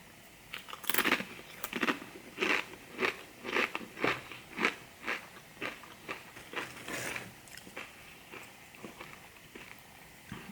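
Crunchy tortilla chips being bitten and chewed with a salty ranch-style spinach dip, a steady run of close, loud crunches with short pauses between bites, no talking.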